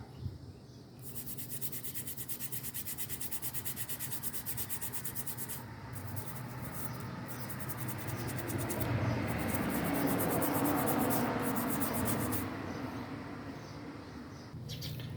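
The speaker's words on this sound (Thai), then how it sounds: "หลังจากที่เราใช้แปรงนะครับขัดไปนะครับ ตอนนี้สนิมนะครับก็หลุดออกไป" A wire brush scrubs rust off metal after a homemade rust-removal mixture, a steady close rasping that rises slightly in loudness midway and continues without pause, with no talk.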